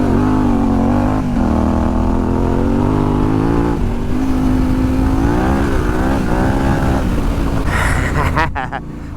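A Yamaha Tenere 700 motorcycle ridden off-road on single track, its engine loud and close, revving up and down in shifting pitch before a brief rustle at the end.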